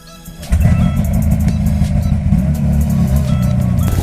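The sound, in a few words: snowmobile engine running on a ride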